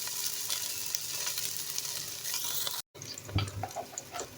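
Chopped onion fries on medium heat in a pan until light brown, giving a steady soft sizzle with scattered crackles, a brief cut, then louder spattering pops and a stirring clatter.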